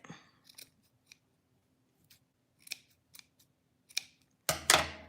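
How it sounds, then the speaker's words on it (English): Scissors snip a yarn pom-pom in a series of short, separate crisp cuts, quiet and close, ending in a louder flurry of rapid snips. "So here's my pom-pom and you just trim it a bit."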